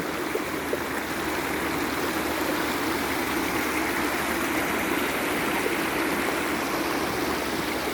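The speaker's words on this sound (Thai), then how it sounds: "กลายเป็นน้ำตกไปเลย" A steady, loud rush of fast-flowing flood water pours continuously over a drop like a waterfall, a churning flooded stream after heavy rain, with no voices.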